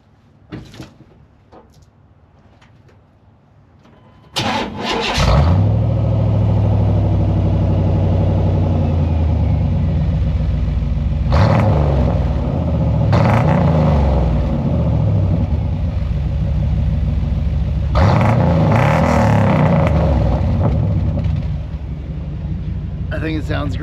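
A car with a newly fitted exhaust starts after a few faint clicks, then settles into a loud, deep burble, with several throttle blips swelling and falling back to idle while people talk over it.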